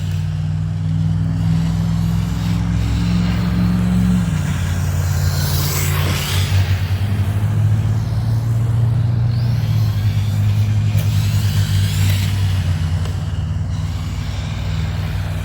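A Rlaarlo RC rally car, running on a 2200mAh battery, drives over grippy concrete. A steady low motor drone runs throughout, and a higher whine swells and sweeps upward twice as the car speeds up.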